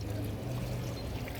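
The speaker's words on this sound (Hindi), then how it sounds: "3 किलो पानी जो है वो ऐड करेंगे।" Water pours steadily into a cooking pot for beef Afghani pulao, a continuous close gurgling stream filling the short moment.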